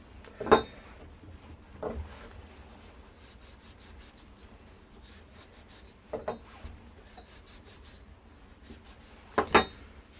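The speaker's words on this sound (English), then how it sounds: "every bit of fitting, always good practice, even if the pipe's clean, just to give it a quick wire wool" Wire wool rubs against copper pipe and fittings in a few short, scratchy bursts separated by quieter gaps, close by and fairly faint.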